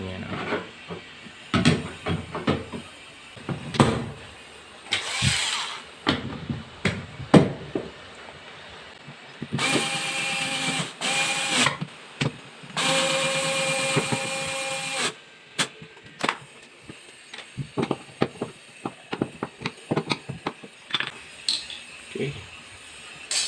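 Screw being driven into a special three-prong convenience outlet during installation, heard as bursts of tool whirring and clicking near the middle amid scattered handling clatter and knocks.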